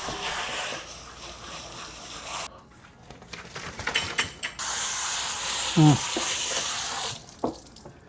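Water sprays in a steady hissing stream while a dog is washed, stops, then resumes, with brief clattering and splashing in between.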